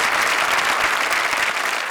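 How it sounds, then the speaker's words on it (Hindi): Dense, steady applause from a studio audience on a comedy show, sustained loud clapping from many hands throughout. "जोरदार तालियां हमारे सारे कंटेस्टेंट्स के लिए।"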